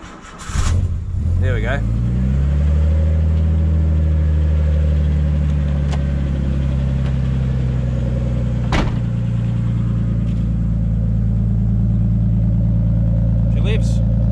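A Nissan R32 Skyline's RB25DET engine, with a sticky starter and left unstarted for weeks, cranks briefly and then catches into a loud, steady idle that runs close by, while someone speaks briefly.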